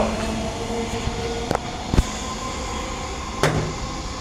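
A train pulling out of a station platform, with a steady rolling rumble and a few sharp clanks and knocks as it moves off.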